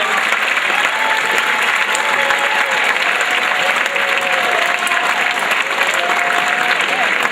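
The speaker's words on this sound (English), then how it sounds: "if we can get one more round of applause for the governor" A crowd gives the governor a round of applause at a Thursday show, dense sustained clapping, loud and near throughout, with faint voices mixed in.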